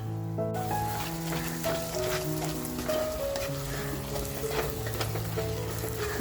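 Dry spices and mutton frying in oil in a heated clay pot for Nagpur-style Saoji mutton, a steady close sizzle with stirring running the whole time while soft background music plays.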